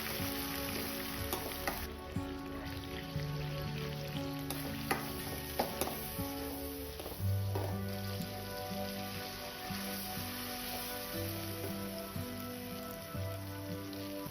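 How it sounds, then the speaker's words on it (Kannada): Mustard seeds and cumin sizzle and crackle steadily in hot oil for tempering, a close, dense frying hiss with scattered pops and a faint melodic tone in the background. "ನೆಕ್ಸ್ಟ್ ನಾನಿಲ್ಲಿ ಒಗ್ಗರಣೆ ಇಡ್ತಾ ಇದ್ದೀನಿ"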